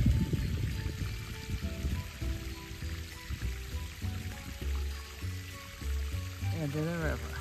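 Water from the Crystal Geyser wellhead pours and streams steadily downhill toward a river, a continuous close rushing flow with a voice speaking over it.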